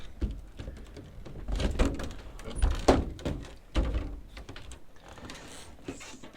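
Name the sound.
awkward door being opened at an ecolodge pod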